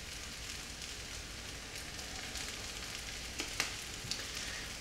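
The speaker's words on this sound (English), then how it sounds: "now I can once again let it fry and make sure that it doesn't get burned" Spices with turmeric frying in a pan, a steady close sizzle and crackle with a few sharper pops near the end, no voices.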